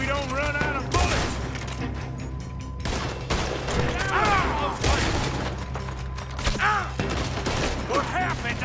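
Heavy gunfire in Red Dead Redemption 2 comes as loud, close shots in irregular volleys, cracking over the whole stretch, with shouting voices mixed in between the bursts.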